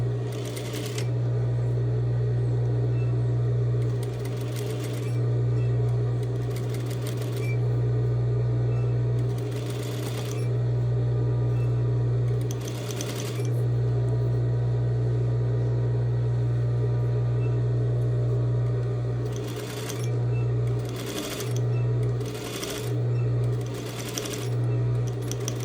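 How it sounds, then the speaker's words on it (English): A sewing machine stitching a half-inch seam on bias tape runs in close, loud bursts of rapid needle chatter. Long runs alternate with short stop-start back-stitch spurts and brief pauses. "I'm going to stitch it at 1/2 inch, stitching and back stitching at the beginning and end of my seam"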